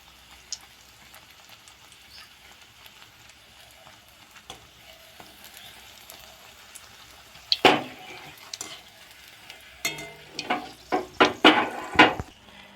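Bread slices frying one at a time in hot white cooking oil, with a faint low sizzle that builds into louder crackling pops and spatters in the second half.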